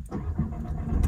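A Seat Leon 1.0 TSI petrol car starts up in hot weather, giving a short, close, muffled engine crank and catch with a low rumble that carries straight on steadily for about a second, no voices over it.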